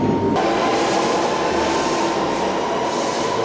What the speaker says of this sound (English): I'm taking the train into London, then taking the tube to Liverpool Street